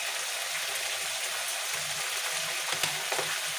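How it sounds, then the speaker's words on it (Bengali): Spice paste with turmeric fries in oil in a pan, a dense, continuous sizzle close up, with faint scraping as it is stirred throughout. "এবার ভালো করে কষিয়ে নেব যতক্ষণ না মশলাটা তোমার তেল ছেড়ে দিচ্ছে।"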